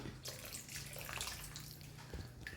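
A thickening mixture stirred into milk is poured into bubbling hibiscus and tender coconut payasam, making a continuous close pouring and splashing sound with soft bubbling underneath.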